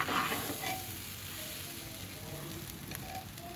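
Masoor lentils frying in a pan for khichuri, a soft, even sizzle with faint stirring scrapes throughout, fairly quiet and unbroken by speech.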